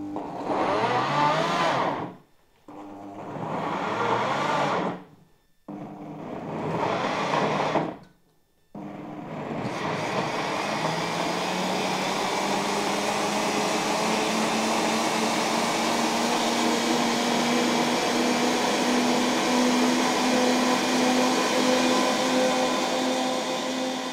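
A kitchen machine blending gazpacho, a cold Andalusian tomato soup, on its smoothie function: three short bursts of loud whirring separated by brief pauses, then a long, steady, continuous roar of the motor running alone.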